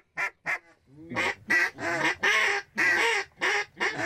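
Ducks quacking on a duck hunt, a series of loud, close, nasal calls in irregular bursts, some short and clipped, others longer and raspy.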